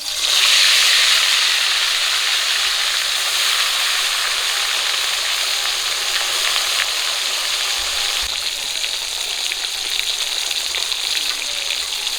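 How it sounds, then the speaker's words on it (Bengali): Japanese puti fish fry in hot oil with a loud, steady hissing sizzle that stays constant for the whole stretch, close up and with no talking. "তেল গরম হয়ে গেছে, মাছ দিয়ে দিচ্ছি।"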